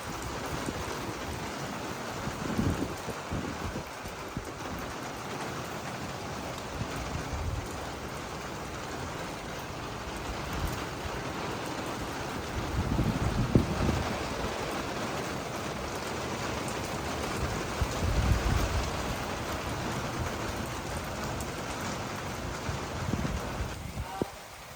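Steady rain falls at night around 11:30 in a Pathan village, a constant wash of patter with occasional louder swells and a voice talking faintly underneath.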